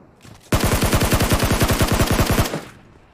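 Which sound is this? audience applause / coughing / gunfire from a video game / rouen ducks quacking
gunfire from a video game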